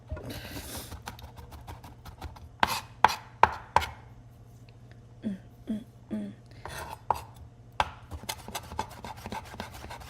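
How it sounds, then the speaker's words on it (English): A knife chops garlic on a cutting board in a home kitchen, sounding as close, sharp taps in uneven bursts with quieter scraping and rubbing between them and a low steady hum underneath. "how I was cutting this garlic"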